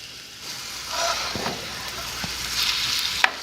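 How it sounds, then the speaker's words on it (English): Sausage and onions fry and crackle in a pan while a spoon stirs and breaks up the meat, with a few brief clinks and scrapes over steady close sizzling. "Sausage out of the casing, you kind of just break it into the onions."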